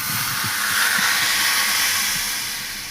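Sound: hot tempering poured into dal, sizzling

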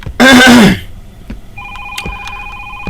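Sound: telephone ringing in a horror video game

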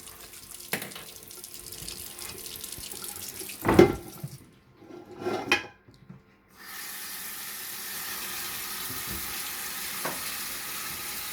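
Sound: tap water washing meat in sink

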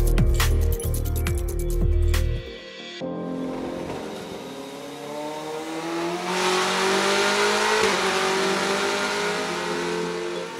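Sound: BMW M8 GTE twin-turbo V8 race engine running

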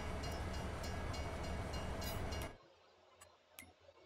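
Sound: train in Farming Simulator 22 video game

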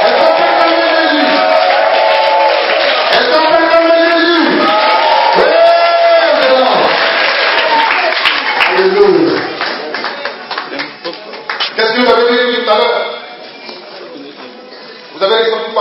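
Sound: congregation cheering and clapping to acclaim Jesus

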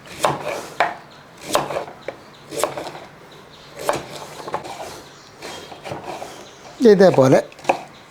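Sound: chopping raw plantain and elephant yam

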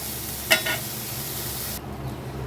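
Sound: brinjal (eggplant) frying on high flame

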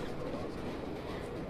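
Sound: subway train passing in Dead or Alive 5 video game

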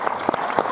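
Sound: audience applause

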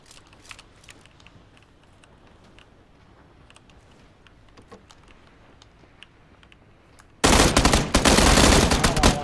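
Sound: full-auto gunfire in the video game PUBG

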